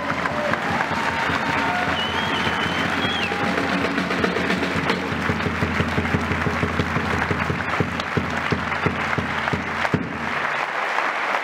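Applause from an audience at a basketball cup homecoming celebration, steady and dense for most of the stretch, with crowd murmur and some talk mixed in, fading out near the end.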